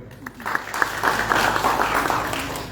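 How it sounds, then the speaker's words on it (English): An audience at a public lecture breaks into clapping, a brief burst of steady applause with a voice audible underneath. "Clap for yourself, brother."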